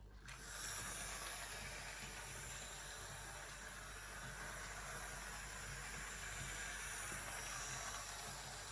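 A Hornby model train, the Santa's Express, runs steadily on its track with a continuous close hiss and low rumble, unbroken by speech throughout.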